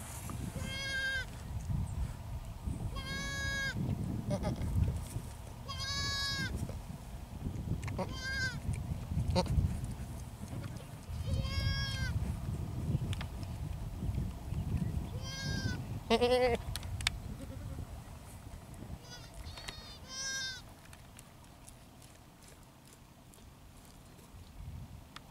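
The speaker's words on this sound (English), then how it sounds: "Let's see your little baby goat you got." Baby Kiko goats bleat repeatedly in short wavering calls, several overlapping and fairly close, over a low rumbling farmyard background with occasional voices.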